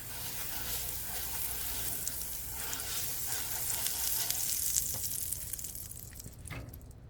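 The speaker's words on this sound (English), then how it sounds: "Now that our pan is hot, we will brush it with butter." Butter brushed onto a hot pan sizzles steadily before a chicken and cheese quesadilla goes in, a close, even frying hiss that fades slightly near the end.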